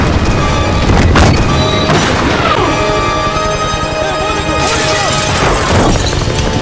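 An old World War 2 cannon firing at a helicopter in a desert setting, loud booming blasts and crashing impacts amid dense cinematic noise and music, with a narrator speaking throughout.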